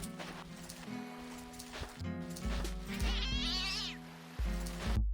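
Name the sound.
cat yowling in a video game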